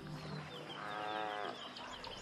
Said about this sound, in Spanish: No muy lejos resuenan profundos y potentes mugidos.